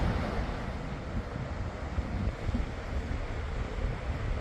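Sea water washing continuously onto a shore in Saudi Arabia, a steady broadband rush of surf mixed with wind buffeting the microphone, moderately loud and unbroken throughout.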